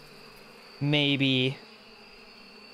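Common bees in the beekeeping game Apico give a single short, loud buzz lasting under a second, with a brief spoken word nearby and quiet background hum.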